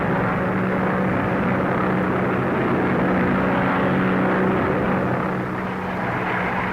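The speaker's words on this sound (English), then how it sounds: "Say, isn't that Who's It's plane?" A 1930s airplane drones steadily overhead, a continuous loud engine roar with no break and no voices.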